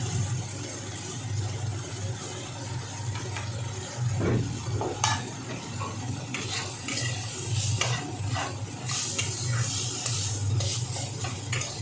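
A spoon stirs a spiced cauliflower mixture in a pan, giving repeated scraping and clinking strokes over a soft sizzle. The sounds are close and irregular, with sharper metallic knocks in the second half.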